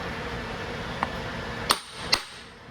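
A hammer strikes a brass drift to seat an input shaft seal on a Meritor truck differential, giving three sharp metallic taps, the last two louder and ringing, over a steady shop hum.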